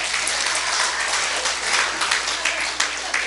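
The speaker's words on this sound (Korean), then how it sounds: "박수 한번 합시다" A church congregation claps during a Sunday sermon, a steady, fairly loud wash of applause filling the room from start to finish.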